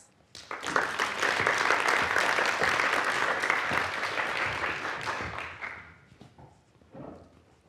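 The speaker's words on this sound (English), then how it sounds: "Please give a warm round of applause for Dr. Josephine West." Warm, full applause from an audience swells quickly, holds steady for several seconds, then tapers off into a few last claps.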